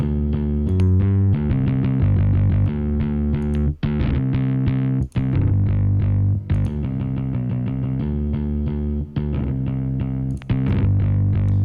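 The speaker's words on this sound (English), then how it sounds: "Let's see what happens when we add in the reverb." Distorted electric bass line with a wet, spacious reverb tail, playing steady sustained notes with brief gaps, loud and alone without any talking.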